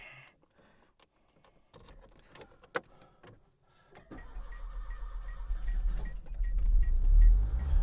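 A Peugeot 505 Turbo, left unstarted for over a month, gives a few faint clicks and knocks before its engine catches and settles into a deep rumble that swells steadily and stays close and loud.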